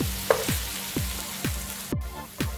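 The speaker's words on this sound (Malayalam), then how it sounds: "ഫ്രൈ ചെയ്യാം." Onions fry in a pan toward golden brown for a liver fry dish. A steady sizzle carries regular, rhythmic spatula scrapes about every half second, close and loud, with no talking.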